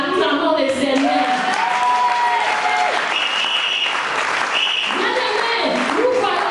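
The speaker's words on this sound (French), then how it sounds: "acclamons le Seigneur" A church congregation at a women's convention bursts into sustained applause for the Lord, dense clapping continuing steadily throughout while a voice speaks over it.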